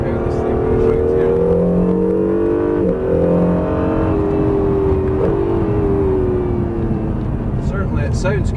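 A new Honda NSX driven hard around the Estoril circuit, its engine droning steadily with rising and falling pitch through gear changes, loud and close, with talk over it.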